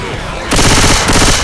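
Loud, rapid automatic gunfire bursts out in Left 4 Dead 2 with a Minecraft mod, a dense close volley starting abruptly after a brief moment of background noise.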